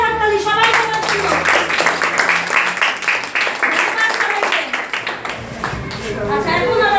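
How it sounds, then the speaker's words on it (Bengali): Schoolchildren in a classroom clap together loudly in a brisk, rapid patter lasting several seconds, mixed with voices talking and calling out over the applause. "আচ্ছা সবার জন্য জোরে হাততালি, সবাই সবার জন্য।"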